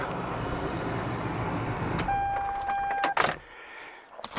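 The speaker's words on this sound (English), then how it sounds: "Let me turn the truck off." A Toyota Tacoma pickup's engine idles with a low rumble, then shuts off with a brief steady chime. A few faint clicks and rustles follow in the near quiet.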